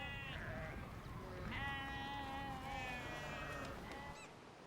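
Several sheep on a North Sea dike bleat in overlapping calls, clear and fairly close, with quavering wavering cries over a quiet outdoor background.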